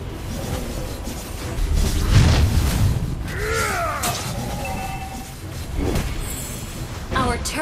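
Turret destroyed during a Mobile Legends Bang Bang match, a booming crash with whooshes and bright effect tones, mixed with game announcer voice lines.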